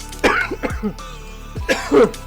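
A few hoarse coughs and a throat-clearing burst from a person with a sore throat, close and fairly loud, separated by short pauses with no talking.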